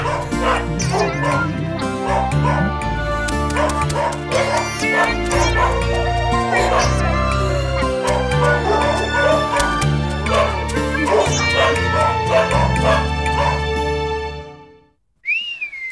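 A dog barks and yips repeatedly in a Malayalam film scene, with loud music playing throughout and both ending abruptly near the close.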